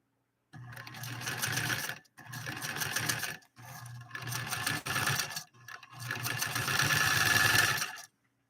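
Motor-driven stitching from a three-quarter size Singer 128 sewing machine, loud and close, running in several bursts of rapid whirring separated by short pauses.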